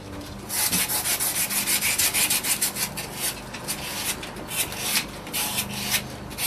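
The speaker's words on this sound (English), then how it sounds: "the nice thing about sanding with a drum is when I need new sandpaper" Rapid, continuous rasping of sandpaper on a sanding drum rubbing against a knife handle, rhythmic back-and-forth strokes, loud and close with no talking.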